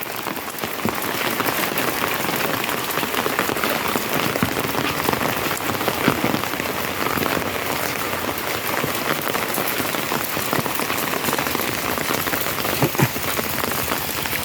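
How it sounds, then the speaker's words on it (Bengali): Steady rain falls across a village in the Sundarbans during the monsoon, a dense, continuous hiss of drops on surfaces and standing water, evenly loud and close throughout with no voices. "আর চারিদিকে বৃষ্টিও পড়ছে"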